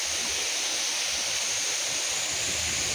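Waterfall cascades at Anse des Cascades on Réunion pour down as a steady, dense roar of rushing water, loud and constant with no breaks or voices.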